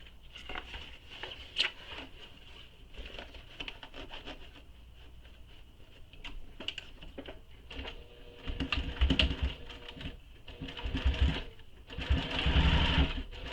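Sewing machine stitching a side seam on a garment from a Sincerely Jen pattern, quiet bursts of rapid mechanical whirring and clicking separated by pauses, growing busier and louder near the end.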